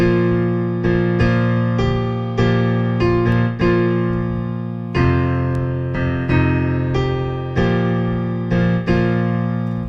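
Piano chords using open fifths ring out in a syncopated dotted-quarter, eighth, half pattern from the hymn Christ Arose, each chord sustaining and decaying before the next accent, played solo and clear.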